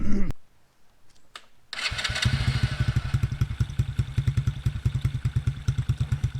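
A TaoTao Coolster 110cc youth ATV engine coughs, falls quiet, then fires up and settles into a loud, close, pulsing putter that keeps chugging unevenly for several seconds.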